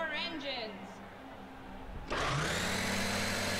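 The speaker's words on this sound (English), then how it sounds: "Drivers, start your engines." Race car engines in the NR2003 racing game burst into life after a stretch of talk and settle into a loud, sustained, buzzing drone.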